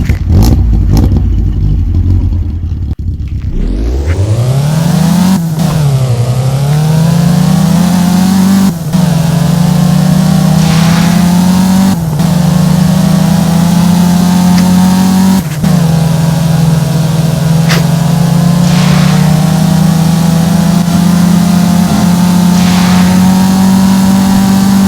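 A car engine in the video game Driving Empire fires up and revs, climbing from idle to a loud, steady drone with a few gear-shift dips and pops along the way, continuous and close for about twenty-five seconds.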